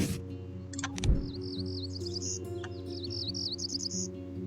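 A warbler call in the Wingspan board video game: a bright, looping series of high chirps and trills over a steady low musical drone, with a few short clicks at the start.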